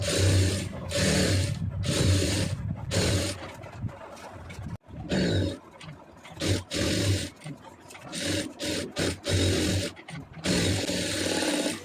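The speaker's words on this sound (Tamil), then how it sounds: "எப்போவுமே லைனிங் தைக்கும்போது கொஞ்சம் நிதானமாக ஓட்டுங்க" A sewing machine runs in bursts while stitching the lining of a cross-cut blouse, a steady motor whir with brief pauses and stops, close and fairly loud, with no talking.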